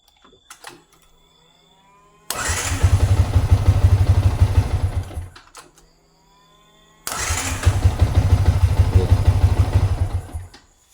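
A motorcycle fitted with a one-click starter and a capacitor on the starter bendix cranks and catches twice, each time a quick start followed by a few seconds of loud, close engine running that then cuts off.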